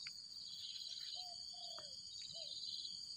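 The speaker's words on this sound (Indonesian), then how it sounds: "Ada burung mantap bro." Short whistled bird calls ring out outdoors over a steady chorus of crickets, several brief clear notes spread across a few seconds against continuous insect trilling.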